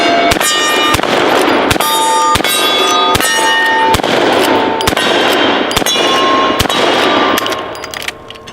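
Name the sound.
rapid gunshots from a Marlin 1894 lever-action rifle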